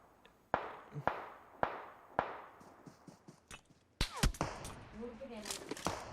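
Several sharp bomb blasts and bangs in the video game PUBG Mobile go off in quick succession, some close and punchy, with lingering rumble and scattered crackling after.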